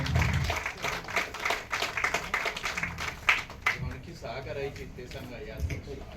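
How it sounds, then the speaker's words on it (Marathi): Audience at a book launch breaks into a few seconds of loud clapping, which fades as a voice continues speaking. "जोरदार टाळ्यांचा गजर देऊया"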